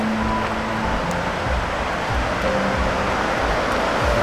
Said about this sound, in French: On entend la rivière.